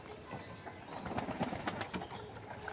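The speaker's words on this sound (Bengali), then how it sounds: "তবে কবুতরগুলোকে বাঁচিয়ে রেখেছি" Pigeons kept on a small farm coo softly and repeatedly, low and fairly faint, over a quiet background hum.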